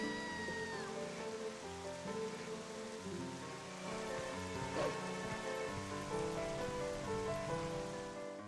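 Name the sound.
rain in the video game The Legend of Zelda: Twilight Princess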